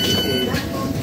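Metro train at Jesmond station, a steady rumbling rush of rail noise with a faint whine, close and continuous through the short moment.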